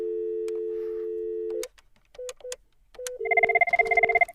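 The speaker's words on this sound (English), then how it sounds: "Make the call again. So dial tone." An IP phone line gives a steady dial tone for a moment, then drops to a few short beeps and a rapid series of keypad dialing tones, near and clear.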